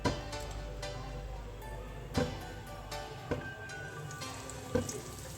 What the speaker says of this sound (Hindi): तो चलिए अपने हम पैटिस फ्राई करते हैं।